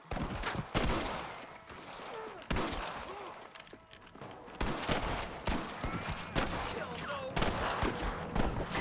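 Rapid gunfire in the Red Dead Redemption video game, dense volleys of close shots cracking in irregular bursts over a rumbling battle backdrop, with faint voices mixed in.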